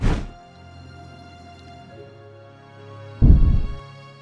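A siege machine shot strikes a tower in the Medieval Machines Builder game, a heavy low thud near the start and a second loud dull impact near the end over a steady low hum, with no talking.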